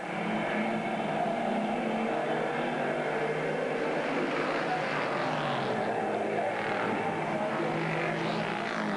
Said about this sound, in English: the leader is now lapping the slower number 9 car of Chris Baker